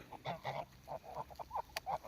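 Young geese hatched in an incubator, a quick string of short honking calls in uneven bursts, fairly faint and close.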